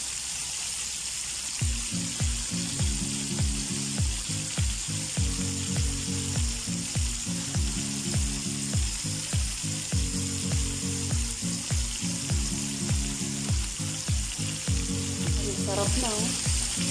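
Chicken pieces fry in hot oil in a pan, a steady loud sizzle that continues throughout with faint rhythmic scraping or stirring underneath and no talking.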